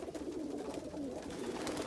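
Roller pigeons coo softly in a loft, a low, faint, continuous murmur of throaty calls that runs unbroken with no talk over it.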